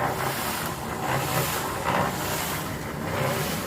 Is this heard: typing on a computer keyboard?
no